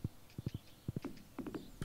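Horse hooves clip-clop in an irregular walking rhythm in a Stardew Valley farm scene, with a few soft snorting or nickering sounds mixed in, moderately close and fairly quiet.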